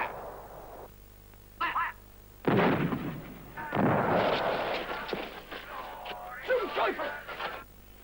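Artillery guns fire rounds in a 1957 war-film battle scene, a series of loud booming blasts with long rumbling tails, interleaved with shouted commands.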